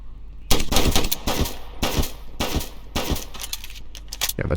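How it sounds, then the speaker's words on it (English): Rapid bursts of automatic gunfire in the police game Flashing Lights during a shootout with a barricaded suspect, several loud clattering volleys with short gaps between them. "Oh, we're still firing shots."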